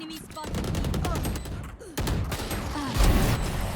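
Rapid gunfire bursts from an Operator sniper rifle in a video game, sharp repeated cracks and thumps with a heavier shot near the end, over dense game noise.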